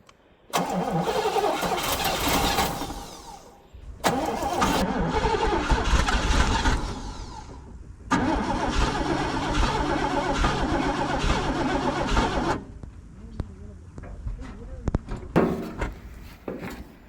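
Starter motor grinds as a 1989 Oldsmobile Custom Cruiser wagon's carbureted engine cranks in three long, loud attempts, each several seconds, without settling into a steady idle.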